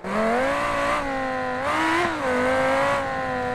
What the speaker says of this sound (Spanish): Aquí están viendo el Civeta Cintila, la verdad que se oye muy chulo